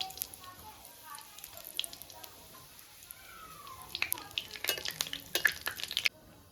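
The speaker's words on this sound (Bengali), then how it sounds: "তো এই যে ফোড়নে আমি শুকনো লঙ্কা, জিরে আর তেজপাতা দিয়ে দিচ্ছি।" Dried red chilli, cumin and bay leaf are tempered in hot oil for a Bengali fish curry, a faint, soft sizzle that swells into sharper crackles and spits near the end, with occasional stirring.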